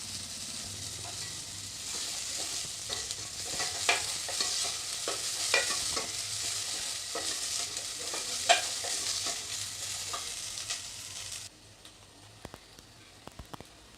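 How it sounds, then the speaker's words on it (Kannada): Finely chopped onion fries in a pan for palak soup, a steady broadband sizzle with scattered stirring clicks and scrapes, close and fairly loud, dropping off abruptly near the end to quieter occasional taps. "ಇದಕ್ಕೆ ಸಣ್ಣಕ್ಕೆ ಹೆಚ್ಕೊಂಡಿರುವಂಥ ಈರುಳ್ಳಿನ ಒಂದು ಸ್ವಲ್ಪ ಹಾಕ್ಕೊಳ್ಳಿ."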